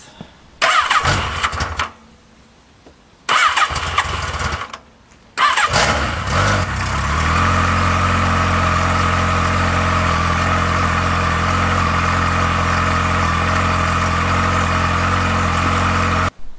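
Motorcycle engine with a carburettor, cranked twice in short loud bursts that die, then catching on the third try and settling into a steady, close idle as it warms up.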